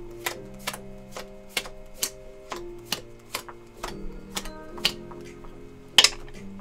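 Playing cards being dealt for three card poker, with a steady run of about a dozen crisp, close taps and snaps as each card lands on the table, with no talking.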